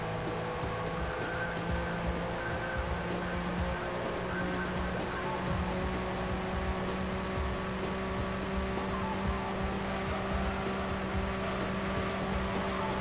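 A car accelerates hard, its engine a sustained, rising roar with steady road and tire noise, heard from inside or close by with no talking over it.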